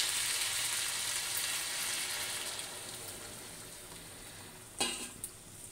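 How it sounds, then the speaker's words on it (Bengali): A curry sizzles in a pan with a steady, fairly quiet hiss that slowly fades. Near the end a short splash and sputter sounds as broth is poured in. "এবার আমি ঝোল দিয়ে দেবো।"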